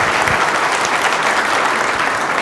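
Loud, dense applause from an audience in a room at a TEDx talk, a continuous close wash of clapping that stays even from start to finish.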